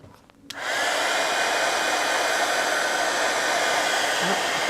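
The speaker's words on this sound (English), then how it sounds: "I'm going to go ahead and stop the color mixing here by using my heat tool." A heat tool blasts steadily at close range to dry watercolor distress inks on paper, a loud continuous whooshing roar that starts after a brief quiet moment and runs unbroken to the end.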